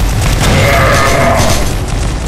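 A grenade blast in CrossFire zombie mode, heard as a dense, loud boom that rumbles steadily across the whole moment with no voices over it.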